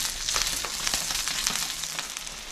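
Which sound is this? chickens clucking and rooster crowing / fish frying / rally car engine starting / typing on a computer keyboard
fish frying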